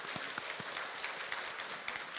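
A church congregation claps together during a Sunday worship service after a baptism is proclaimed, producing a dense, steady wash of applause throughout with no talking.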